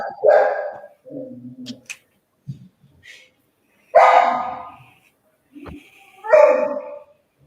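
A dog barks in several loud, separate bursts with quiet gaps and a few softer whimpering yips between them, close by.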